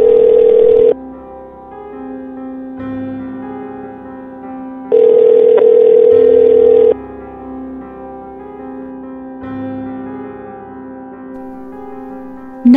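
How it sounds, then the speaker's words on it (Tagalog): A mobile phone rings unanswered, loud electronic ring bursts repeating at regular intervals with a steady tone in between, heard alone without voices. "Tinawagan niya si Toto pero hindi ito sinasagot ang kanyang telepono"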